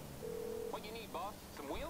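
A phone in the video game GTA Online dials, with a short steady tone followed by quick beeping key tones, fairly quiet under low background game noise.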